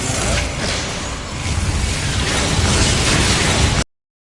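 Spell explosions from Confringo and Bombarda in Hogwarts Legacy on PS5, a dense, continuous roar of blasts and bursts that stays loud for nearly four seconds before cutting off abruptly into silence.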